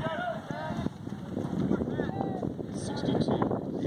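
Wind gusting across the microphone at an outdoor track meet during a 1600m race, a steady low rumble buffeting beneath a voice speaking throughout.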